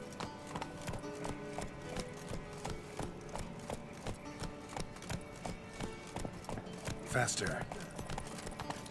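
A horse gallops in The Witcher 3 video game, its hooves clip-clopping in a quick, steady rhythm close up, with a brief louder whinny-like burst near the end while a voice speaks over it.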